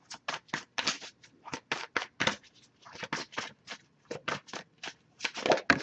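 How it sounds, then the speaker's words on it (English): Tarot cards riffled and shuffled in quick repeated bursts, a crisp papery flutter close by, with brief pauses between shuffles. "I'll give it a few more shuffles."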